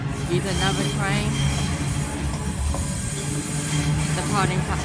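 A Sydney suburban train pulls away from a platform at Ashfield station, its electric motors whining in rising sweeps over a steady rumble and hiss, with voices murmuring nearby.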